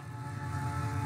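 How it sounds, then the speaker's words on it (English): A train in the video game Night in the Woods rumbles past with a steady, droning mechanical hum and faint tonal whine, heard briefly and fairly close. "I didn't realize how much I missed the sound of that train."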